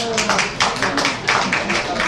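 Audience clapping at a public debate in a hall, several short bursts of hand claps over about two seconds, moderately loud with room noise and scattered voices mixed in.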